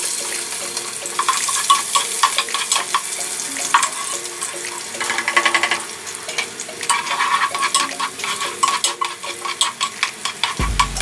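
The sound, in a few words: onion and garlic sautéing in hot oil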